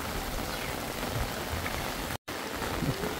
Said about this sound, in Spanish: Está lloviendo y lloviendo, esto no para.